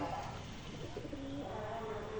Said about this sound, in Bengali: এই যে পায়রা বসে গেল